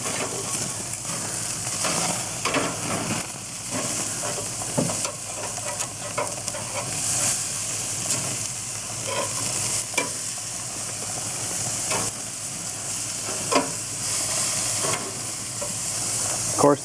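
Meat sizzling steadily on a backyard barbecue grill in September as the pieces are turned, a continuous frying hiss with occasional scrapes and clicks, close and loud with no talk.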